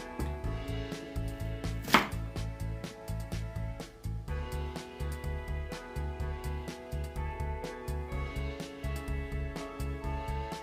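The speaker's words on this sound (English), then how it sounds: "Next, we will cut our vegetables." A knife chops vegetables on a cutting board in a steady, fast rhythm of close, crisp thuds that continues throughout, with one sharper knock early on.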